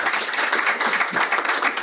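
Audience at a business summit club event applauding, dense steady clapping from many hands filling the short moment, close and fairly loud with no talk.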